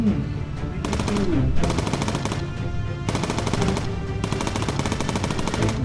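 Rapid machine gun fire from bomber turrets in the video game Bomber Crew, several long sustained bursts with brief gaps, crackling steadily over a low engine drone.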